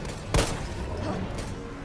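A single gunshot blast in the Resident Evil 3 Remake video game, one sharp loud burst standing out over a steady low game background.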